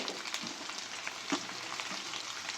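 Onions frying in a pan for biryani, a close and steady crackling sizzle with light stirring scrapes and no talking.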